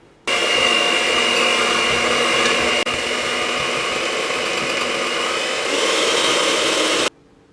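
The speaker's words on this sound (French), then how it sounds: "on va venir utiliser le batteur pour mélanger le tout" Electric mixer working bread dough with salt, a steady loud whirring hum that starts abruptly, runs about seven seconds without talk, then cuts off.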